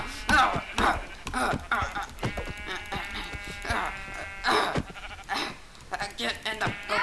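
Repeated electronic sheep bleats from a Pokemon video game sound under steady, overlapping talk, with game music and effects behind them.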